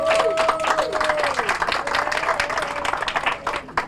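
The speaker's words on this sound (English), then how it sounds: "let's give a round of applause to the association." A crowd claps at an outdoor ribbon-cutting ceremony for a neighborhood tot lot. The loud, continuous applause has a sustained voice or whoop running over it before gradually thinning out.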